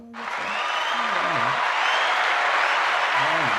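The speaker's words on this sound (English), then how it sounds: "A round of applause for the NFL." Crowd applause for the NFL swells quickly and holds steady as a broad, dense wash, while a voice talks over it intermittently.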